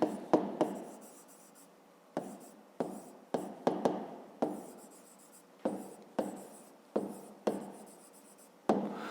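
A pen scratches on paper in a series of short, close strokes with brief pauses between them, writing out a fifth-grade maths exercise.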